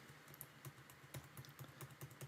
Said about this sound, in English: you can use the arrow keys on the keyboard